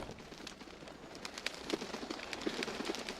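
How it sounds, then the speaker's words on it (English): Crows in the Darkwood video game, startled from a huge tree crown over a village: faint scattered calls and fluttering over a hissing, rain-like ambient bed, with no voices. "Crows. Something must have scared them off the huge tree crown towering over the village."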